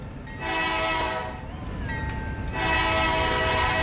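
A CSX locomotive horn in the Roblox rail game RO-Scale sounds in three long, loud blasts, the last one held, over the constant rumble of a moving train.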